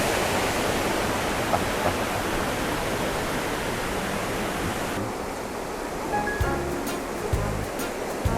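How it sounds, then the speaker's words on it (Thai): A loud, constant rush of a waterfall roars for several seconds, then softens as a few faint knocks and sounds come through. "เป็นน้ำตก"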